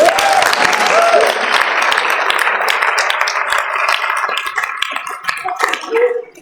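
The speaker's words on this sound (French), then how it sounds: "alors on les applaudit bien" An audience at a neighbourhood cinema's last screening applauds, dense sustained clapping that gradually thins toward the end, with a few voices audible under it.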